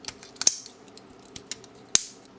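Plastic parts of a toy card weapon from the Huan Ka Fighter 2 toy line being folded open: soft rustling with two sharp, crisp clicks about a second and a half apart, close up and alone.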